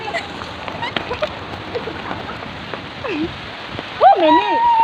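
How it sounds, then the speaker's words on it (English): Heavy rain pours down outdoors as a steady broadband hiss and patter, with people talking and calling out over it. "Rain chasing us."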